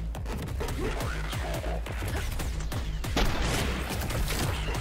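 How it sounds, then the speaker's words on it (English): Gunshots fired toward the player in the shooter game SPRAWL, a steady run of rapid cracks and impacts amid dense, busy action noise with no pause. "Whoa, who shot at me?"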